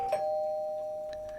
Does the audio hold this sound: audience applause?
no